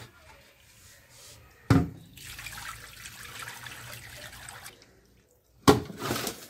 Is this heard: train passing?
no